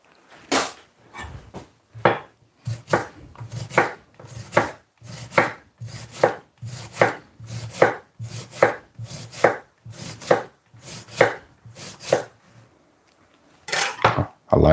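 An onion being chopped on a cutting board, knife strikes landing in a steady run of about twenty sharp close taps with brief pauses, no talking.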